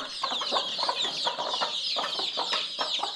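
Village hens in a Konkan backyard poultry setup clucking continuously in quick, overlapping bursts, moderately close, with a bright chirping layer running throughout.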